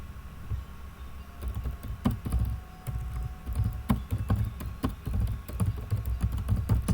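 Clicky keystrokes on a computer keyboard entering shell input come in uneven bursts of taps over steady room hum, close and fairly loud, with no talking.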